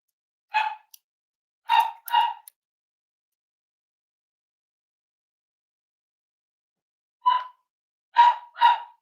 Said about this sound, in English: That's Paris barking